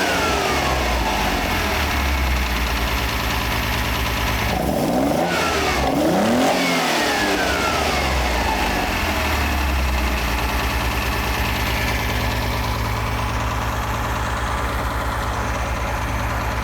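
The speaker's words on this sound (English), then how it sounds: "The engine will speed up as it frees off. It's already ticking a bit high, but that's okay." A restored Ferrari Dino 246 GT engine runs steadily at a slightly high idle, a continuous close mechanical drone that briefly dips and swells partway through.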